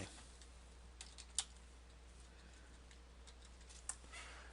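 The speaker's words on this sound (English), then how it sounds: "And then I'm typing in this file name." Faint, sparse keyboard typing, a few soft key clicks scattered over a steady low hum, with one or two sharper taps standing out.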